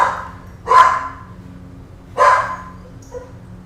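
A dog barking twice, two sharp, loud, close barks about a second and a half apart, with a faint low background hum between them.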